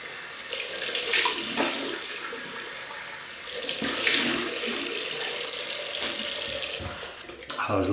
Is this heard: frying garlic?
no